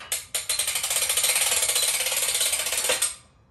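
The winch on a Harbor Freight 20-ton shop press ratchets as it lowers an assembly, a fast, even run of loud metallic clicks lasting about three seconds before stopping.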